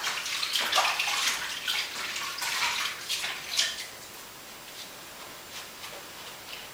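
Kale rinsed under a running tap, a steady close splash of water with bright spattering bursts in the first few seconds that then settles into a softer, even flow.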